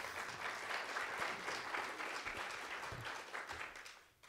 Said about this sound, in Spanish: Entiendo que los aplausos son para Silvano